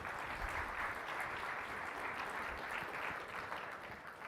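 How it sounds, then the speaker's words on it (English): A conference crowd claps steadily in sustained applause for keynote speakers, a dense even patter of many hands with no voices standing out. "Can everyone give all of our keynotes a huge round of applause?"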